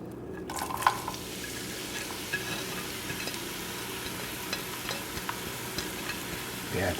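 Onion and garlic fry in a pan with a steady, fairly quiet sizzle, and a few soft clicks and scrapes of stirring break through now and then.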